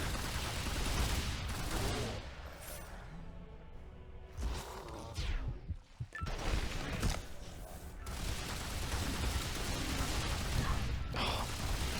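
Gunfire and impacts from the Tomb Raider Anniversary final conflict, dense bursts of shots and crashes layered over game music and effects, loud and continuous, with a brief lull in the middle.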